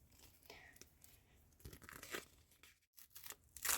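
A paper packet rips open in a few quick tearing and crinkling bursts, close by, with soft rustling between them.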